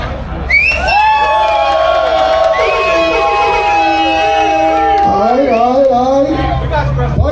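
A crowd at the Iron Elite 2025 bike event cheers and whoops loudly for bike number 3, with shouts and high yells rising over a dense babble of voices, swelling and then breaking into scattered calls near the end.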